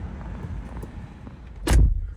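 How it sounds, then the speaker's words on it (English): A single heavy door of a Jeep Grand Cherokee L slams shut with a solid thud, standing out clearly above a steady background hum. "Tell me if you've ever heard another car slam its doors and sounds like this."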